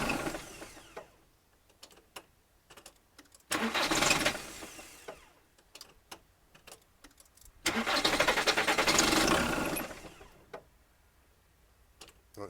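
A car engine being repaired after a snapped cambelt cranks over on the starter in two separate bursts, the second longer, without catching. Quieter clicks and workshop noises fill the gaps between attempts.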